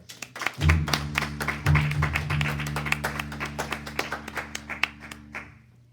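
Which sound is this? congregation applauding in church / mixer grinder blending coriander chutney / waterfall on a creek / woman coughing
congregation applauding in church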